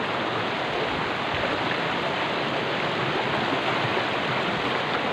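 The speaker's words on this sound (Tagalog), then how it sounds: "lakas ng agos" A strong river current at a quarry in Porac, Pampanga rushes as a steady, dense roar of water throughout, with no voices.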